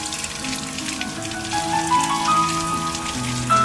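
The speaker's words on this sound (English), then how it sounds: "I placed it in a spot where I know that there's a lot of rain fall off." Rain pattering steadily down a six-foot copper rain chain with bell-shaped cups, a close, dense splashing and trickling with faint ringing tones, constant throughout with no voices.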